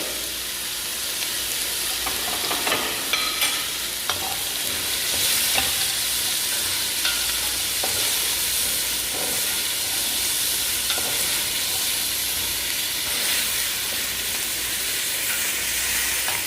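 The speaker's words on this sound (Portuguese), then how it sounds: "Os demais vegetais a gente acrescenta do mais duro para o mais macio, então a gente vem com a cenoura." Carrots and other vegetables stir-fry in a hot pan, a loud, continuous sizzle broken by scraping and clatter from stirring, close up, with no voices.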